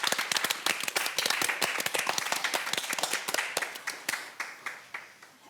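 Applause from an audience at an online women-in-leadership symposium, a dense run of overlapping claps that thins toward the end into fewer, sparser hand claps.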